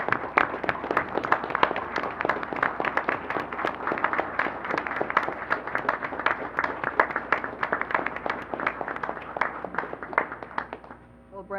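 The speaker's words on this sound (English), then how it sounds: "please stand up so we can give you a round of applause" A room full of people claps at a VIA Board of Trustees meeting, dense and sustained for about eleven seconds before tapering off at the end, with little talk.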